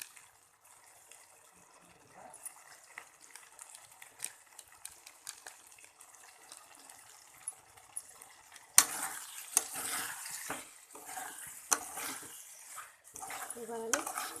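Chickpea dal with potatoes being stirred and fried in a pan, with soft scraping and sizzle that turns louder and busier partway through, with clinks of the utensil against the pan.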